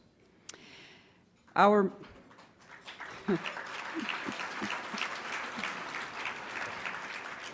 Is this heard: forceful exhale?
no